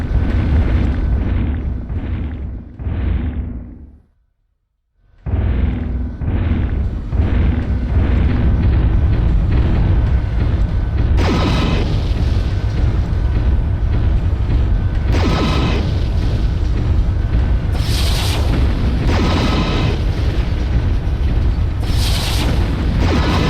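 Explosions boom repeatedly in the mech combat game MechWarrior 3 as targets are destroyed, with deep rumbling blasts, a brief drop to near silence, then a dense continuous barrage of loud bursts.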